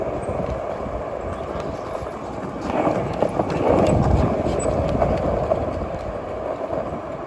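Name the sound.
horse hooves clip-clopping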